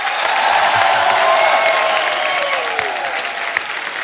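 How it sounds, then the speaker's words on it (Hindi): A studio audience on the Kapil Sharma comedy TV show applauds loudly and steadily for arriving guests, dense clapping filling the whole moment with a little crowd noise underneath. "हमारे सभी मेहमानों के लिए एक बार जोरदार तालियां हो जाए।"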